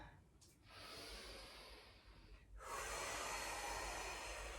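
Deep, wide breaths during a pregnancy pilates exercise, a long audible inhale followed by a longer, louder exhale, close and unaccompanied by talk.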